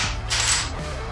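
A small metal spark plug gapper for a Harley-Davidson Sportster is set down on a hard surface, giving one sharp, bright clink with a short ringing tail.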